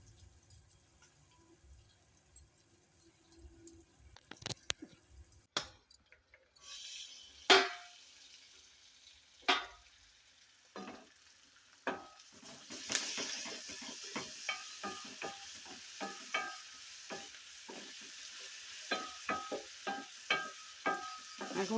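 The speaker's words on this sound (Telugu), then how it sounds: "నాకు ఉల్లిపాయలు పచ్చిమిర్చితో పాటు పోపు కూడా అంటే పచ్చిపప్పు కూడా బాగా వేగిపోయింది ఫ్రెండ్స్" Onions, green chilies and raw lentils frying in a pan, soft sizzling with intermittent sharp clatters and scrapes of stirring, close and fairly quiet, with a brief watery splash early on.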